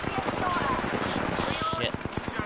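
Rapid automatic gunfire in Apex Legends, a dense burst of evenly spaced loud shots rattling close for the whole stretch, with no voices over it.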